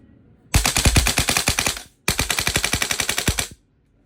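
A VFC HK416 A5 V3 gas blowback airsoft rifle fires full auto in two loud, close bursts of rapid, evenly spaced cracks, each lasting about a second and a half, with a short pause between.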